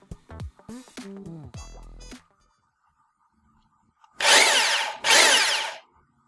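Restored hammer drill switched on, with two loud whirring bursts of about a second each near the end, close up, after some short clicks and tonal noises at the start.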